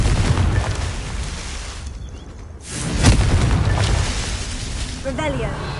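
A Confringo blasting spell in a video game lets off a booming burst midway through a busy, noisy stretch. Clipped effects and a rising whine surround it.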